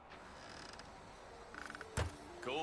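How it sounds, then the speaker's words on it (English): A door creaks open in the stealth game Hitman 3, a drawn-out wooden groan with a sharp knock partway through, set against a quiet ambient game backdrop. "Open this door, create a noise."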